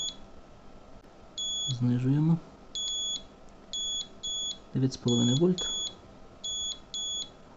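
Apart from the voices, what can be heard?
inverter beeping for low battery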